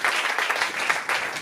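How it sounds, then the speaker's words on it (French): Church congregation clapping for Jesus Christ during a bilingual sermon, a steady, fairly loud wash of many hands beating together without pause across the moment. "Clap for Jesus Christ."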